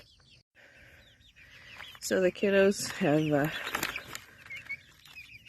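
Hens cluck and squawk loudly in a few short bursts at close range on a farm, with a person talking over and around them.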